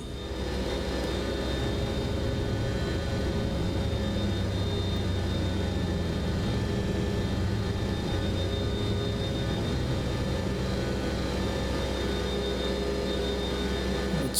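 A Boeing 727 climbing out after takeoff in Microsoft Flight Simulator 2024, giving a steady, even cockpit engine drone with a faint high whine, unbroken and alone throughout.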